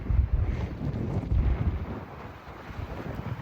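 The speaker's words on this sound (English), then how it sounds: "It's extremely windy here." Strong wind buffets the microphone at big grain silos beside a shipping dock, a steady loud low roar with gusting swells and no speech.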